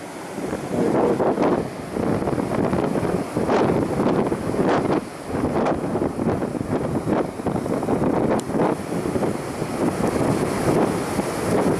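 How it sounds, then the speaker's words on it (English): Large ocean waves break and wash at Vale do Lobo beach in the Algarve, a broad rushing roar with repeated surges, mixed with heavy wind buffeting the microphone. "Just check the size of these waves."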